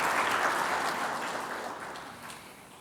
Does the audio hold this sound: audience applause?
yes